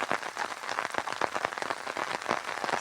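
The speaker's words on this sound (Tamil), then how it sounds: "சரியான மழைங்க நம்ம ஏரியாவில்." Heavy summer rain pours down steadily outdoors, a dense, continuous patter of drops drumming on surfaces at close range with no voices.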